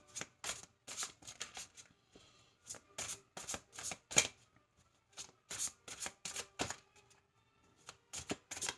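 Tarot cards riffled and cut in quick bursts of crisp flutter, separated by short pauses, close up with no voices.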